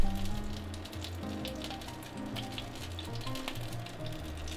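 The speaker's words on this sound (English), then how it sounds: "As soon as the oil is hot, start adding the coated eggplant rounds." Coated eggplant rounds sizzle and crackle in hot extra virgin olive oil in a pan over medium-high heat, a steady close frying hiss with fine popping throughout.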